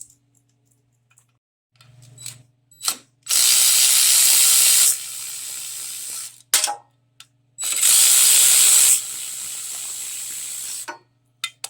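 A hand ratchet works the 3/8 valve cover bolts on a Briggs & Stratton 18.5 horsepower engine from a John Deere LA100 mower: scattered clicks and taps, then two long, loud hissing bursts of rapid ratcheting separated by brief quiet.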